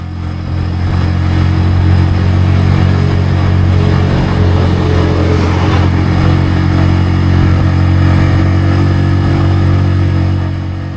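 A Yamaha W175 motorcycle engine drones steadily and loudly for the whole stretch, labouring under load as the bike climbs a long uphill road during a solo tour through Dieng. No one speaks.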